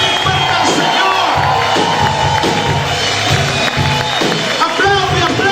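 A church congregation shouts and claps loudly to the Lord, a dense, continuous roar of voices and hands filling the space without pause.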